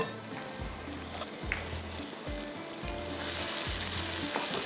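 Kebab mixture with garlic, salt and butter sizzles and fries steadily in a hot pan, with recurring low stirring scrapes at a slow rhythm, close up and with no one talking.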